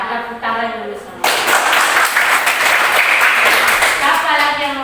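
A classroom of students claps together after a classmate answers a teacher's question, starting with quieter murmuring and a teacher's voice, then a sudden loud burst of sustained group clapping.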